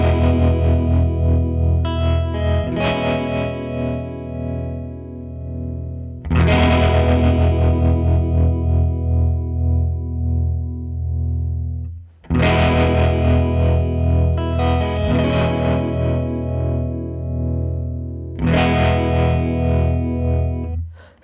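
An electric guitar plays sustained chords through a Catalinbread Tremolo8 tremolo pedal set with an ethereal reverb, loud and distorted, with repeated strums and long washy decays and no talk.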